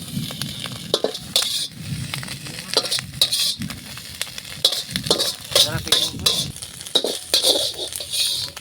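Egg rice stirred and frying in a pan for a North Karnataka egg rice omelette, with steady sizzling and repeated scraping, clinking stirs of a utensil against the pan, close and busy throughout.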